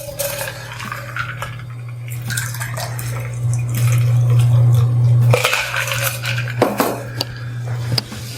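Liquid from a cocktail shaker is poured back into an emptied cranberry juice container, a steady splashing stream with clinks of glass and utensils over a low hum, swelling midway and then tapering.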